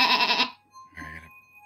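A man imitates a sheep with his voice, giving a single wavering bleat that is loud and close, followed by a shorter, quieter second bleat.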